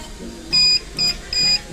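A DVR security recorder's alarm buzzer gives three short electronic beeps at a steady pace, fairly loud and close, over a faint background hum.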